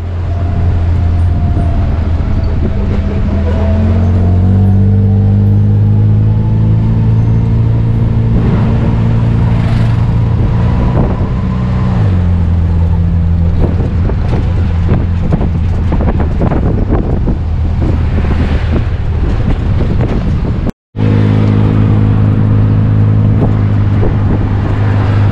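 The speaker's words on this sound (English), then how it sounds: "a tuk-tuk." A tuk-tuk ride in Korat, Thailand: a loud, steady engine drone with shifting revs and heavy wind rush across the microphone, plus passing traffic, continuous for the whole stretch with one brief dropout.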